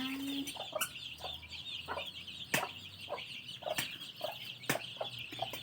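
Chicks cluck softly and repeatedly close by while eating termites, with sharp pecking taps and a faint steady hum behind them.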